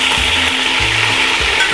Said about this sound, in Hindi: चिकन को फ्राई करके आपने निकालना है